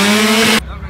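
A drift car at full throttle with tires squealing, a loud harsh screech over a roaring engine that cuts off abruptly before the end of a very short burst.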